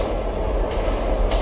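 A phantom train rumbling past in the post-apocalyptic shooter Metro 2033, a loud, dense low roar of rolling wheels and carriage noise that fills the whole short stretch without pause.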